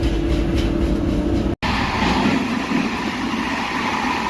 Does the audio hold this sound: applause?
no